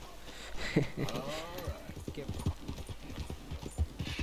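Horse hooves clip-clop in steady rhythm across the open world of the video game Red Dead Redemption 2, moderately close, with talking layered over the hoofbeats throughout.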